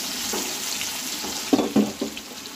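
Fish frying in a pan with cumin, a soft sizzle in the background broken by a few short bursts of louder spattering near the end.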